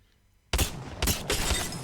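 Rapid, loud shotgun blasts from the EVA-8 auto shotgun in the Apex Legends video game: three sharp close shots, roughly half a second apart, after a quiet moment.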